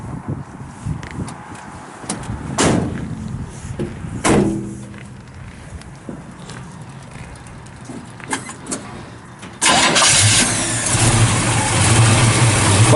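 A 1970 Chevrolet C10 shortbox with a 350 turbo transmission and 2.5-inch dual exhaust: scattered clunks and thuds come first, then the engine fires abruptly and settles into a loud, steady idle up close.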